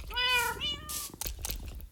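A tuxedo cat in the video game Minecraft lets out two clear, close meows, the second drawn out and falling, followed by soft scattered game noises with no speech.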